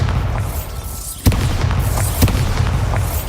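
A Bombarda spell explodes in the game Hogwarts Legacy, two sharp booming bursts about a second apart over a rumbling low background.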